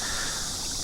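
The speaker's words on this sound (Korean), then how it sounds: "물이 흐르는 소리 들리시죠?" Water trickling down rock in a 3D-printed aquarium waterfall filter driven by a small pump, a continuous close hiss of flowing water with no talking.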